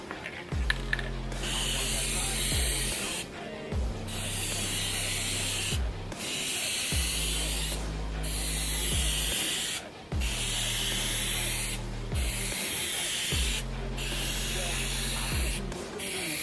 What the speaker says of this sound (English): I'm just going to start painting it down here